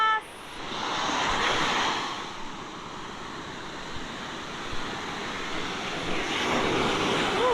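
Pacific Ocean surf behind a low dune on a beach, heard as a steady, fairly soft wash of waves and wind from a little distance with no talking.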